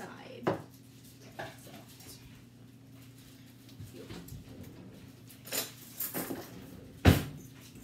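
Baking powder, baking soda and salt combined in a bowl with a whisk or fork, a few scattered clinks and taps against the bowl, sparse and irregular over quiet room noise.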